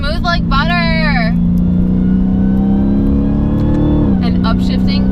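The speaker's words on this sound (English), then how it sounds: "I'm just gonna downshift here. So fourth to third" A 2019 Dodge Challenger Hellcat Redeye's supercharged engine drones loud and close, its steady pitch dropping as the gearbox goes from fourth to third, with a voice briefly heard over it at the start and end.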